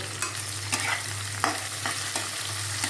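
Prawns fry in a pan with a steady close sizzle, marked by repeated short scrapes and taps of a spatula stirring them, over a low constant hum and no voices.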